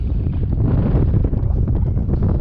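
Steady wind buffeting the microphone beside a canal while fishing, a loud continuous rumbling roar with gusty fluctuations throughout and no speech.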